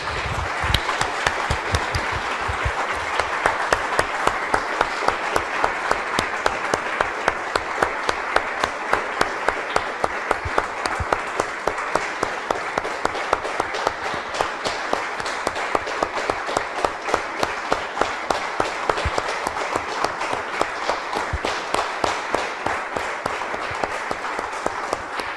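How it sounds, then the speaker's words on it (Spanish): A church congregation claps together in steady, sustained applause, dense and loud throughout with no voices rising above it. "Damos un aplauso, hermanos, al Señor."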